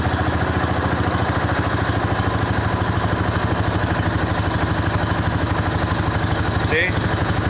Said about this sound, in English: I think I got the throttle where I need it.